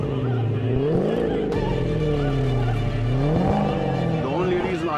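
A supercharged, modified classic Jaguar engine revs loud and close with rising and falling pitch, a steady throaty roar under occasional voices.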